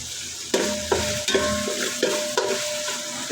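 Chopped ginger and garlic fry in hot oil with a constant close sizzle, punctuated by regular stirring strokes about every half second, and no voices.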